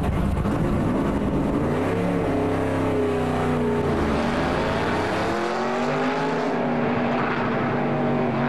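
A race car engine accelerates hard, its loud, close whine climbing steadily in pitch through repeated gear shifts, with no talk over it.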